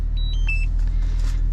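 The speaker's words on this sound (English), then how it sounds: "I don't know what's beeping." Two short electronic beeps from a drone left switched on inside a Camaro SS 1LE, faint and high-pitched over the low, steady rumble of the idling engine, with no talking.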